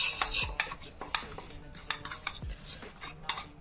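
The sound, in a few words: stirring egg and spices mixture with a spoon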